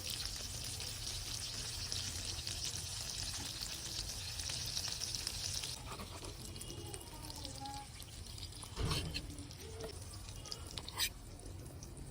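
Steady sizzling of a salted hilsa fish paturi wrapped in bottle gourd leaves frying in a pan, with a few stirring clunks and scrapes later on, no talking.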